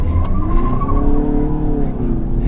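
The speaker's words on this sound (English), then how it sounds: "We're going to get into sport mode. We're going to turn off traction control off, left foot on the brake, right foot on the accelerator" A car engine revs hard in sport mode with traction control off, brake held for a launch, a loud rising harmonic whine with tire-squeal tones, close and continuous for a couple of seconds.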